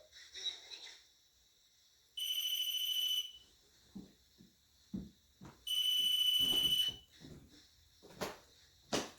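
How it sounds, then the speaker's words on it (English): A REM pod ghost-hunting device in a hotel sounds two loud, steady electronic alarm tones of about a second each, separated by quiet knocks and taps. A faint voice is heard between them. "I just can't believe this REM pod, how it's continuously going off."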